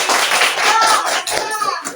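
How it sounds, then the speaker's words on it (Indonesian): A short burst of clapping from a small group, brisk and fairly close, with a voice faintly mixed in. "Tepuk tangan untuk pasangan Aldi."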